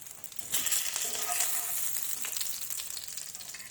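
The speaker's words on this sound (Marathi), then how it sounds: "सगळे वडे याच पद्धतीनं सोनेरी रंगावर फ्राय करून घ्या" Chicken vada, a doughnut-shaped chicken snack, sizzling steadily as it deep-fries in hot oil until golden, a continuous crackling hiss with no voices.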